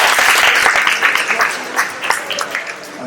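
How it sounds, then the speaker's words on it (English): An audience at a youth conference at a football club venue applauds, a lively burst of clapping that thins out into scattered individual claps over a few seconds. "Can we have a round of applause for everyone?"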